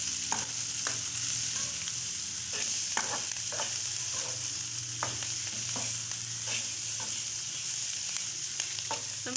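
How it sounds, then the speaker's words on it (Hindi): Capsicum stir-fried alongside green chillies for a chicken kachori filling, a soft steady sizzle broken by frequent spatula taps and stirring scrapes, fairly quiet and without voices. "और साथ ही शिमला मिर्च भी। अब इसको भी भून लेंगे।"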